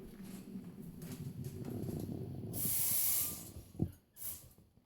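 Water goes into a small, cold frying pan with a loud hissing splash lasting about a second, a short sharp clink, then a briefer spatter, over low kitchen rumble.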